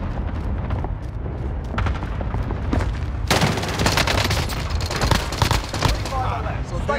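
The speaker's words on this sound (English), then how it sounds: "Somebody drop a cluster strike on me." Cluster strike explosions in a Call of Duty match on Rebirth Island, a dense barrage of booms and rolling blasts mixed with rapid gunfire, loud and continuous throughout.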